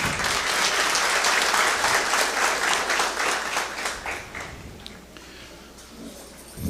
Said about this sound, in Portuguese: Aproveitaria para saudá-la com uma salva de palmas.